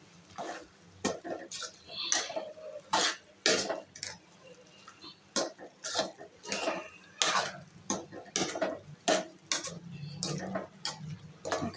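A ladle stirs tomato curry in a pot, knocking and scraping against the metal in irregular close clatters, alongside softer bubbling.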